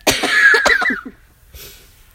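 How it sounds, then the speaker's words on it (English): A lingering cough bursts out in a harsh, close, loud fit of several rapid hacks, then trails off into quieter breathing. "Yes, I still have the cough."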